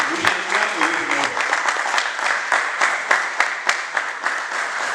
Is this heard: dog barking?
no